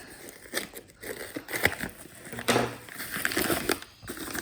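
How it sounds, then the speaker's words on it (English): Cardboard box and packaging for a Chuwi CoreBook X notebook crinkle, crush and tear during unboxing, a close run of irregular rustling bursts and scrapes with no talk. "So this is unboxing. Inside should be Chuwi notebook, and let's see what is there."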